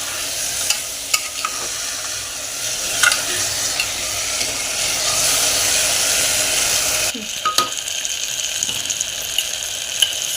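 Soaked rice being stirred and roasted in spice masala in a pan: continuous close sizzling with repeated sharp scrapes and clinks of the spoon against the pan.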